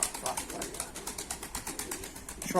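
Soft, repeated coos from a flock of nearly 150 pigeons pulse in a steady rhythm at moderate distance, with faint rustling in the background.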